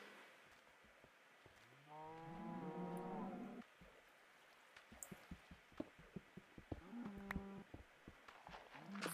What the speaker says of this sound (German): Weil hier oben sind die Kühe.